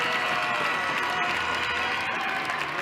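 An ice hockey arena crowd at a Fife Flyers game erupts during a fight, a dense, steady roar of cheering and clapping that fills the whole space without letting up.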